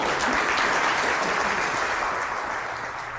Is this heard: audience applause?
yes